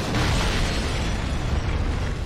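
Enemy attacks in the Dark Souls III video game set off a loud, dense roar of explosions and crumbling that stays steady and close for a couple of seconds with no talk.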